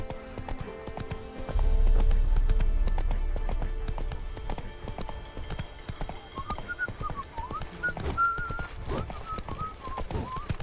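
Horse hooves clip-clop steadily in the video game The Witcher 3, with a rhythmic trot under game music and effects, followed by whistling bird-like tones.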